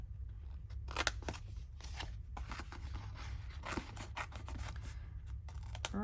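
Small scissors snip through paper during French Rococo-style ephemera crafting, giving a string of quick, close, crisp cuts in irregular bursts against a steady low hum, with no voices.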